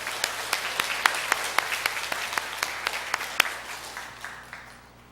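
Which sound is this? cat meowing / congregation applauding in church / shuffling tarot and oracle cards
congregation applauding in church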